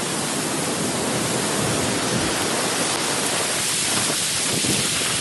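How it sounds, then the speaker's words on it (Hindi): Heavy rain driven by strong winds in Pakistan, a dense, loud, even roar of downpour filling the whole stretch without pause. "देखते ही देखते काली घटाओं ने आसमान को लपेट में लिया और तेज हवाओं के साथ बारिश की मोटी मोटी बूंदें गिरने लगीं।"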